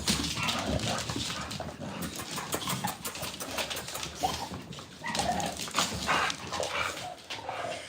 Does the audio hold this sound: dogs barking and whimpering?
yes